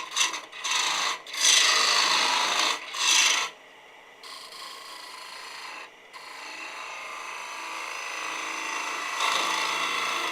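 A bowl gouge cutting wood on a lathe, with a steady rasping hiss that comes in sustained passes, loud at first, then a slightly quieter continuous cut that swells again toward the end.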